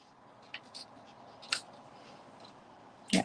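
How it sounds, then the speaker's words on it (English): Ribbon scissors snip close and crisp, with a few light cuts and then a sharper, louder snip at the end, against a quiet room. "Let's get my ribbon scissors."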